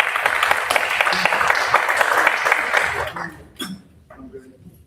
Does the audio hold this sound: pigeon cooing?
no